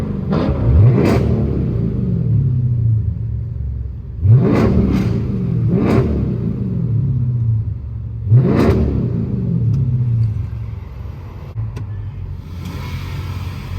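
A Dodge SRT or Hellcat with a muffler-deleted exhaust fires off three sets of sharp, loud revs in quick succession over a steady idle rumble, close by in a downtown street.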